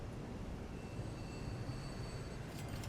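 A Stadler FLIRT multiple-unit train runs in the game Transport Fever, giving a steady low rumble of rolling rail traffic with faint high squealing tones, continuous and even throughout.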